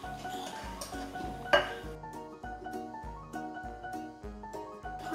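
Fairy cake batter is mixed in a bowl, with repeated clinks and knocks of a spoon against the bowl in a steady rhythm, close and clear, with a brief louder clatter early on and music playing underneath.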